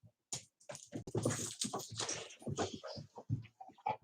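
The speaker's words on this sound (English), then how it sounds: "These dogs are superbly trained." Dogs whimpering and yipping close by, a busy run of short, high whines and soft cries with no talking.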